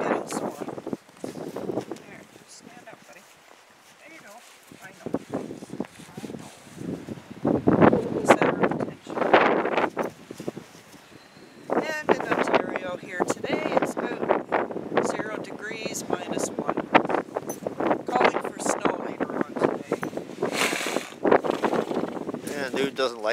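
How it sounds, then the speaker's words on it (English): Strong outdoor wind buffets the microphone around horses in winter, gusty roaring and rustling rising and falling throughout, loudest in the later half, with a person talking over it. "as you can hear, the wind is up as well"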